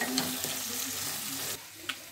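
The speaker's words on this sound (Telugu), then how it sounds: "వెల్లుల్లి అన్నీ వీటిలోనే ఫ్రై చేయాలి, ఎందుకంటే తాలింపు అయితే పెట్టడం లేదు, అందుకనేసి ఇప్పుడు అన్ని ఆయిల్లోనే ఫ్రై చేసుకోవాలి" Tomatoes, curry leaves and garlic fry in oil for gongura pachadi, a soft continuous sizzle with a few light stirring scrapes and clicks, fairly faint and with no talk.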